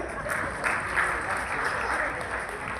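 A group claps for a woman at a trip event, producing soft, even applause that sounds somewhat distant, with light voices mixed in.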